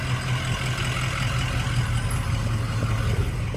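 A 2004 Ford Excursion with the 6.0 diesel V8 idles steadily nearby, a continuous deep rumble with an even low throb and no gaps.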